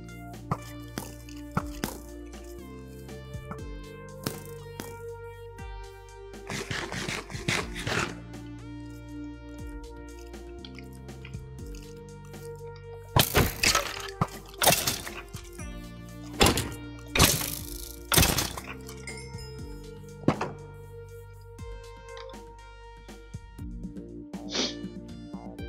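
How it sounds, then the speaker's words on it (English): Repeated dull thunks and crunchy breaking from chopping spruce trees in Minecraft, irregular hits clustering in bursts, heard over a soft steady musical backdrop. "It's time to cut down some spruce trees, darling."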